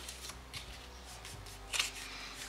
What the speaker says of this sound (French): Allez, je reforme mon accordéon